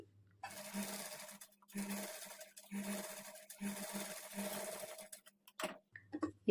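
A sewing machine stitches a blouse lining in a series of steady, close mechanical runs separated by brief pauses.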